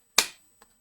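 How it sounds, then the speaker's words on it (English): A single pair of hands gives one sharp, close clap, followed by a much fainter second tap about half a second later, then silence. "If those two hands, when they clap, sound like this"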